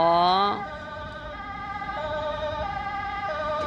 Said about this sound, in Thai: อ่าเป็นรถดับเพลิงนะคะรถดับเพลิง มาแล้วนะคะ